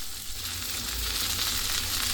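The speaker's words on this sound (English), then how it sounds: "You can hear this frying really well." A thick slice of bologna fries in a couple of tablespoons of vegetable oil in a skillet, giving off a close, steady, crackling sizzle.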